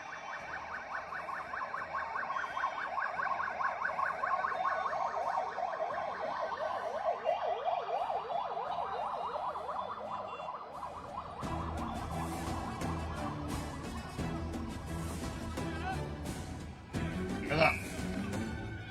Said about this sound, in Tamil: இன்னும் அடுத்து இன்னொரு ஆம்புலன்ஸ் வருதா?